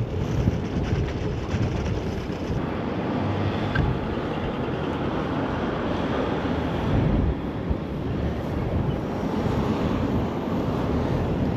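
Atlantic Ocean waves and wind along the shore near Reykjavik make a loud, steady roar for about twelve seconds, with broad wash and gusty wind noise and no talking.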